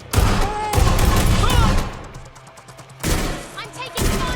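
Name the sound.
gunfire from a video game, Watch Dogs Legion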